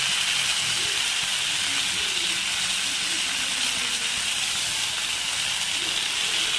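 Herbs and chillies sizzle in a hot pan as thoothuvalai leaves, curry leaves, coriander, mint and green chillies are sautéed for a chutney: a steady, close hiss that runs unbroken throughout.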